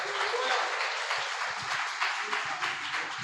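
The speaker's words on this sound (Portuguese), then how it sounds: "aplauda o nome do Senhor" A church congregation at a Sunday evening conference applauds steadily, a quiet, even wash of clapping that fills the room, with a voice speaking faintly underneath.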